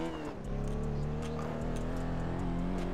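A car in the racing game Test Drive Unlimited 2 keeps a strong, steady engine drone at high speed, with a brief dip early on and then a sustained loud roar.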